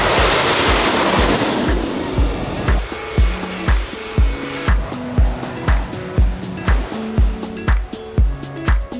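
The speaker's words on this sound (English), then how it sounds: "you can lay out in the sun and have an airplane land" A low airplane roars loudly overhead as it comes in to land over a beach in Phuket, Thailand, and fades away, followed by a steady rhythmic thumping.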